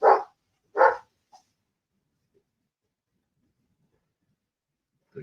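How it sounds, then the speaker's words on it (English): Two loud dog barks come close together at the start, followed by a long silence and a third bark cut off at the end, several dogs in a house reacting to someone arriving. "My wife must be returning because the dogs are all barking again."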